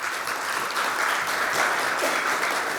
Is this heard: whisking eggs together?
no